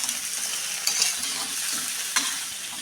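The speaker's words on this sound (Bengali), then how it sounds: "এখন সব কিছু একটু ভালো করে নাড়াচাড়া করে" Mixed vegetables for a five-vegetable panch sabji sizzling in a pan while being stirred, a dense steady hiss with a couple of sharper scraping strokes, close and moderately loud, no voices.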